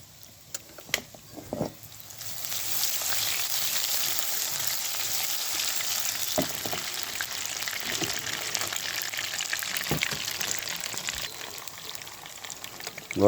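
Meatballs frying in a pan for a paella, a steady bright sizzle rising after a couple of seconds and continuing evenly, with a few scattered knocks and taps of cooking over it.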